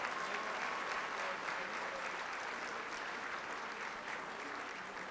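Steady applause from an audience at an awards ceremony, fairly faint and continuous for a few seconds with no pauses.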